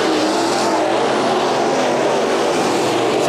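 Sport Mod race cars roar around the dirt oval at Bakersfield Speedway during a heat race, a dense, continuous engine howl from several cars at close range with no letup.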